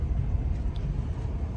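A bus heading to the airport rumbles with a low steady engine and road drone heard from inside the cabin, moderately loud and without talking.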